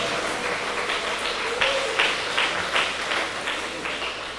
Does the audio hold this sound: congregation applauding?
yes